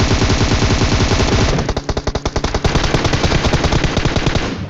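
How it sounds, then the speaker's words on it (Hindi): Rapid automatic rifle fire from an AKM in the PUBG Mobile video game, a continuous loud burst of rattling shots that briefly separates into distinct pops before resuming, with no talking. "सामने से जो है पता नहीं क्यों लेकिन फायरिंग की आवाज़ आने लग जाती है"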